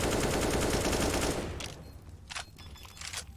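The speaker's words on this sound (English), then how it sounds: "Spams the last few bullets of that AK away just for good measure." An AK rifle in the competitive shooter CS:GO sprays a rapid, dense burst of automatic fire that stops abruptly after about a second and a half, followed by a few faint clicks and handling noises.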